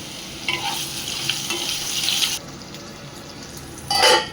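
Potatoes with bay leaf, dried chilli and panch phoron sizzle loudly in a hot pan, with a steady crackle and stirring scrapes, then a quieter stretch before another burst of sizzling.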